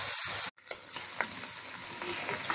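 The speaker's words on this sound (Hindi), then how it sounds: "आलूओं को और पालक को भून लूंगी।" Potatoes and spinach fry in a pan with a steady close sizzle, broken by a brief stir and a few faint scrapes, with no talking.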